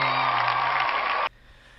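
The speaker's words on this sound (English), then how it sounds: "Clap it up again" Studio audience clapping and cheering after a hip hop performance, a dense steady roar of applause and whoops that cuts off abruptly, leaving a quiet room.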